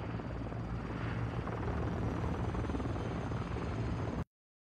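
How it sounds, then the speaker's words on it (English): A helicopter in the video game Warzone 2.0 gives a steady, droning rotor roar at an even level, then cuts off abruptly. "yeah, I can hear the helicopter."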